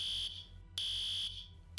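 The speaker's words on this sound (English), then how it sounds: "as I turn to leave, the alarm goes off again" A hardwired building alarm, not a small battery-powered unit, sounds shrill, piercing beeps in a repeating on-off pattern, loud and close with brief gaps between pulses.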